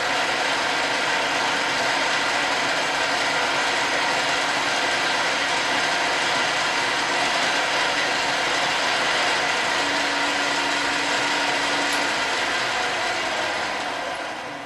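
A drill bores a pilot hole in metal lubricated with cutting oil, producing a steady, loud, grinding mechanical whir that runs unbroken throughout with no voices.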